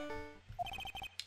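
Godot's cell phone ringtone from the Phoenix Wright: Trials and Tribulations video game: a short electronic melody of about eight quick, evenly spaced beeping notes, clear and close, with no talking over it.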